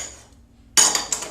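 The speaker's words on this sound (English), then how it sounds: "let's get some of our dishes out of the way here" Dishes are cleared away in a kitchen while pizza poppers are being made: after a quiet moment, a sudden cluster of clinks and clatters of cutlery and pans, close and sharp, with no talk.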